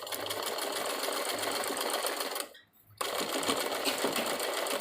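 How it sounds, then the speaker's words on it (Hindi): A sewing machine stitches a fitted seam on a child's frock, running steadily and fairly loud for about two and a half seconds, pausing briefly, then whirring on again. "और ये जहाँ हमने फिटिंग दी है उसी के अकॉर्डिंग हम यहाँ पर सिलाई लगाएंगे।"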